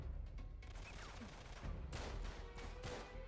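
Gunfire from Uncharted 3 Remastered played on PS5, several bursts of shots over a steady background of in-game ambience, moderately loud and close, with no speech.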